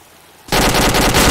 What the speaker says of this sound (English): Oh, that's some good shooting.